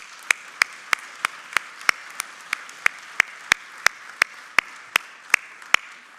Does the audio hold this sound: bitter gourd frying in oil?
no